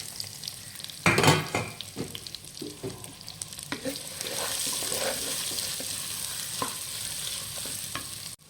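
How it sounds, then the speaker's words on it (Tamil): Sliced shallots and round chillies sizzle and crackle in hot oil in a clay pot, with a sharp burst of stirring scrapes early on, then a steady, close frying hiss broken by occasional spoon clinks. "நறுக்கி வச்ச சின்ன வெங்காயம், குண்டு மிளகாயை எண்ணெயில் வதக்குறோம்."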